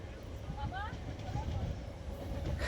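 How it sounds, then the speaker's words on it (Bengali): A moving local passenger train rumbles steadily with faint rattling and brief squeals, a low continuous roll heard from inside a carriage. "তো দেখো আমরা ট্রেনে চেপে যাই, লোকাল ট্রেন"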